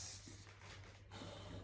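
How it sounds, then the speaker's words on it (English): A can of regular hairspray hisses onto the lengths of the hair in faint, soft bursts at close range. "I use a hairspray. This is a regular hairspray. I just spray on the length only."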